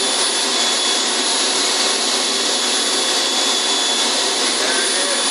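An RC jet turbine engine in an F-105 Thunderchief model runs steadily, producing a loud, continuous broadband roar with a high whine that holds level throughout.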